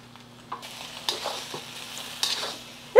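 Tomatoes, green onion and cilantro being stirred into hot fried rice in a pan with the heat just switched off, with several soft scraping stirs and light sizzles against a faint low hum, ending in a louder clank.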